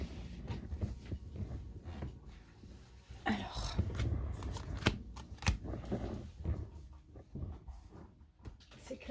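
Tarot cards shuffled by hand during a fire-sign astrology reading, a run of soft riffling and slapping bursts of moderate loudness, with a voice talking underneath.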